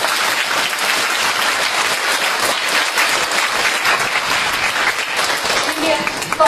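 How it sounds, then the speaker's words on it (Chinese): At an evening law forum, an audience warmly applauds Peking University Professor He Weifang with sustained, loud, dense clapping that carries on without a break, while a voice is faintly present underneath. "让我们以热烈的掌声欢迎贺伟芳教授的到来"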